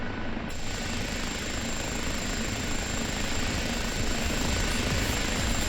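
A Kiowa helicopter in the DCS flight simulator sits after landing, its rotor and turbine roaring in a loud, steady drone with a thin high whine running above it.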